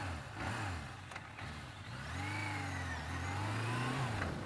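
A Suzuki GSX400S Katana motorcycle engine revs up steadily from about 3000 rpm, its pitch climbing smoothly, close by with a continuous rising whine.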